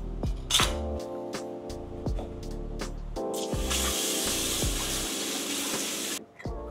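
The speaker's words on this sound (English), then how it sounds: "We have to do dishes by hand." Dishes washed by hand with running water and soap: a tap sprays steadily while plates, pots and cutlery clink and knock close by in irregular bursts.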